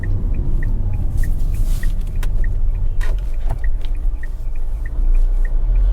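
A Tata Altroz hatchback's engine drones steadily while driving in third gear, with a low continuous rumble and a regular faint ticking from the cabin, close and fairly loud, with no talking.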